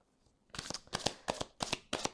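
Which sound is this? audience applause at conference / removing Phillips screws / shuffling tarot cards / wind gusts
shuffling tarot cards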